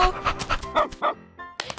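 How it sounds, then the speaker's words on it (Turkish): A cartoon dog lets out a quick run of short yapping barks and yips, close and fairly loud, separated by brief gaps. "köpek hırladı aniden."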